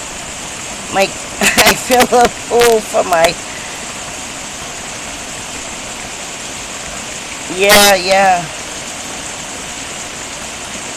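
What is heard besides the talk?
heavy rain during a Carolinas thunderstorm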